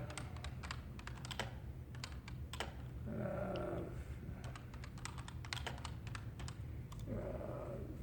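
Rapid typing on a computer keyboard, bursts of sharp close clicks with short pauses, over a low steady hum, with brief murmuring in between.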